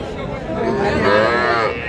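Cattle, young bulls and heifers, at a livestock market; a drawn-out cow moo sounds up close over a low background of crowd chatter.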